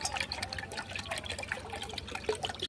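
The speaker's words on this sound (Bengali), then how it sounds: "এবার আমি কিছুটা পরিমাণে ঠান্ডা জল দিয়ে দেব এর মধ্যে।" Cold water pours steadily into a whisked yogurt mixture for a lassi-style drink, a continuous close splashing trickle with no voices over it.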